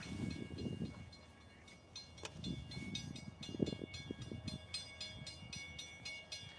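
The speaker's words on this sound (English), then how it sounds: "it's train time. I'm getting distracted by a train." A train rumbles past nearby in Decatur, Alabama, its wheels clattering rhythmically over the rails with a steady mechanical roar.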